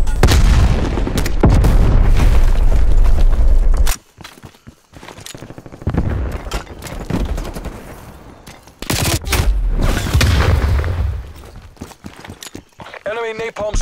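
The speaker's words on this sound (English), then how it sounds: "Grenade out." A grenade detonates in Call of Duty Cold War gameplay: heavy booming blasts and gunfire in loud bursts, then a quieter stretch with footsteps and clatter, while voices talk over the action.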